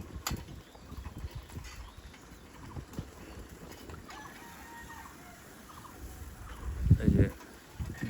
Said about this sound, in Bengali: কালো মুরগি একদম দেশি মুরগি